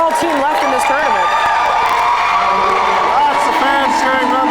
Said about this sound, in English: Lots of fans cheering on.